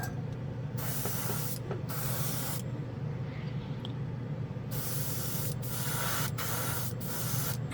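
Dspiae chrome paint is sprayed onto a model in a heavy wet coat, a loud, close aerosol hiss delivered in several bursts separated by brief pauses.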